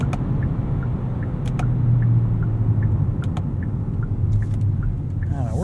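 A 2026 Kia K4 Hatchback GT-Line Turbo with an automatic gearbox driving, a steady engine drone and road rumble heard from inside the cabin, with a faint rise in engine note partway through.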